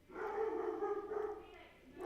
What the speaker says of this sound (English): there's a dog in here. Can you hear it?